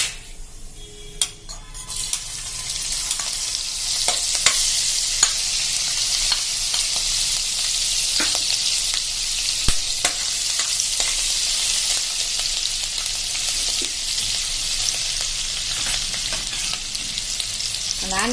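Asafoetida, ginger and chopped green chili sizzle and crackle in hot oil with cumin while tempering for a yogurt-potato curry. A steady, close frying hiss runs throughout, with occasional small clinks and stirring sounds.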